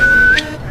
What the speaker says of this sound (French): Dès qu'elle entendrait son sifflement, elle pourrait sortir le voir.